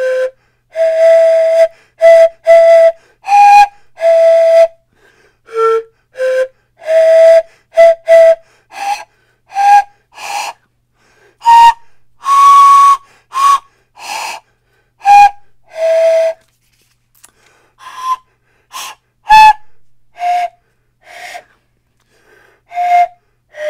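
An unusual non-Western pan flute plays a string of short breathy whistling notes one after another, with airy gaps and varying pitch, loud and close with no voices.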